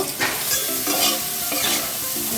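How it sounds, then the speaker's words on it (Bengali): Bitter gourd sizzling in hot oil for Bengali shukto, with stirring scrapes and clinks over a continuous close frying hiss; no voices. "এই তেলেই উচ্ছেটা ভেজে নেব"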